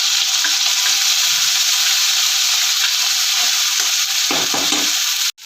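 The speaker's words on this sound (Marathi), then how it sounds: "हे छान पैकी असं आपल्याला परतवून घ्यायचं असं मस्त छानपैकी परतलं आहे" Ground masala paste sautés in a pan for crab curry, giving a loud, steady, close sizzle with soft stirring scrapes throughout and no talking.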